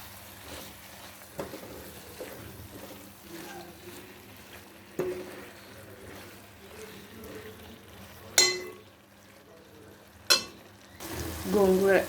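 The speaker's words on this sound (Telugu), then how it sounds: "గోంగూర వేసి ఫ్రై చేసుకోవాలండి." Gongura leaves fry with prawns in hot oil, a soft sizzle punctuated by scattered clinks and scrapes of a stirring spoon against the pan, growing louder in the final seconds.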